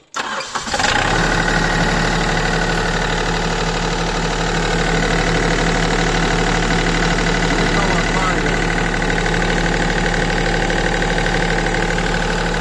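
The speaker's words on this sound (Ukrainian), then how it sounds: "Заводиться з полточка." A Yanmar B3-3A mini excavator's diesel engine cranks after glow plugs and catches, then settles into a loud, steady idle with a rough, knocking rumble that continues without a break.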